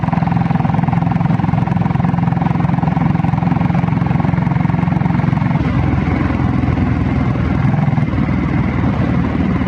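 A Royal Enfield Bullet with a factory diesel engine idles steadily up close, a loud, even low chugging that holds through the whole stretch with a slight shift in tone near the middle.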